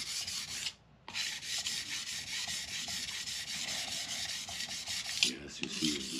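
Steady grinding of a tool against a CBN plate on a Tormek sharpening machine, a continuous dense rasp that drops out for a moment and then resumes close by.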